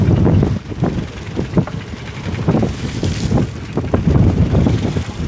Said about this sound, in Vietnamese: Sóng gió lên luôn bạn.